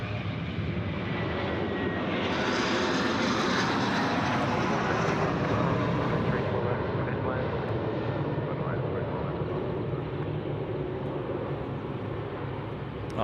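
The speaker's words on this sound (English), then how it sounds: "they'll be replacing this aircraft on screen now, which is the QantasLink 717s being phased out" A QantasLink Boeing 717 jet at Sydney Airport produces a sustained broadband engine roar that swells and then eases, with a faint high whine, while people talk over it.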